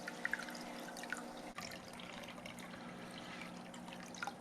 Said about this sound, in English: go in with the first little scoop here of water